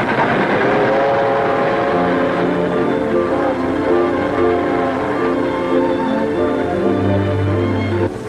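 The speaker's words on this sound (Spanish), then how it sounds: "¿Usted nunca ha visto un tren irse?" A train pulls away from a station in a 1952 film, its engine rumbling steadily with a sustained horn or whistle tone and faint rail clatter throughout.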